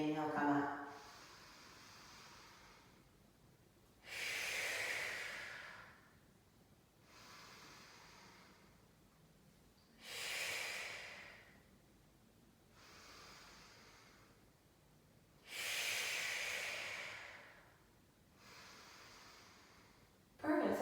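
Slow, deep breaths during a prenatal pilates pelvic-tilt exercise: three loud, airy inhales alternate with softer exhales in a steady rhythm, close to the mic, with no talking over them.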